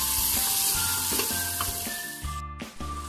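Onions with garlic-ginger paste frying in a pan, a steady bright sizzle broken by the scrape and clatter of stirring with a utensil, close and loud, with no talking.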